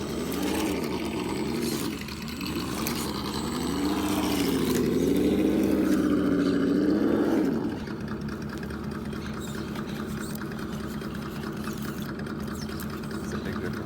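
1946 Dodge Power Wagon RC truck on a TRX4 Sport chassis with working exhaust, a steady droning motor hum that rises and wavers in pitch for several seconds, then drops to a lower, quieter steady tone.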